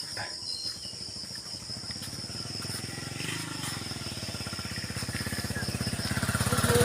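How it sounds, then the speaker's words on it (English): A motorbike engine idles nearby, its low puttering growing louder toward the end, with insects chirping in the background. "there's a motorbike here at back of me"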